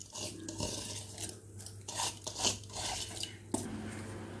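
Kodo millet and lentils pour and clatter into a pot of water, with a few scraping, rattling kitchen sounds nearby and no voices.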